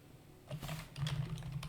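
Quick, faint keystrokes tap on a computer keyboard while entering a spreadsheet formula in Excel, a short burst of clicks close to the mic over a low hum.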